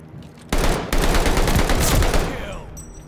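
Loud, continuous gunfire erupts at a Hardpoint objective in Call of Duty: Vanguard multiplayer on PS5. After a brief break the heavy, overlapping shots return and then taper off near the end.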